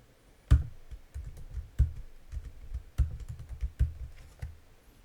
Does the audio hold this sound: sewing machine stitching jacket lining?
no